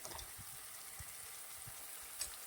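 A rice and lentil vegetable filling sautés in a hot pan with a steady, soft sizzle, broken by faint scrapes and light knocks of a spoon against the metal.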